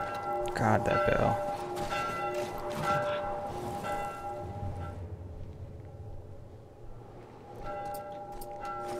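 A church bell tolls in The Last of Us Part 1 during the hospital section, its loud metallic strikes ringing out and decaying while game sounds and a low rumble continue underneath.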